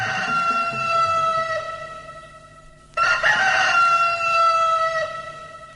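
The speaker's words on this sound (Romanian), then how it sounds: "Au cântat cocoșii." Roosters crowing, two long drawn-out calls, with a louder crow bursting in halfway through over the first, both near and clear with no voices.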